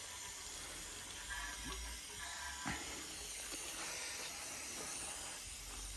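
A pressure washer sprays snow foam and dirt off a motorbike, a steady, faint hiss of water with a few soft knocks and splashes scattered through it.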